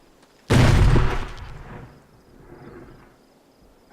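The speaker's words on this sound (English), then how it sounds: "Oh, I just figured out how to use my grenades." A grenade goes off in the VR zombie shooter Arizona Sunshine, one sudden loud, deep blast that rumbles and fades over about two seconds.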